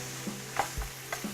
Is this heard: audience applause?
no